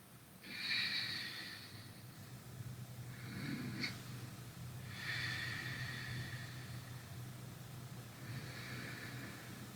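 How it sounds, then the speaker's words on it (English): Slow ujjayi breathing during a chair yoga session, three or four long, soft, hissing breaths in a quiet room, each drawn out over a couple of seconds with brief pauses between. "Ujjayi breath."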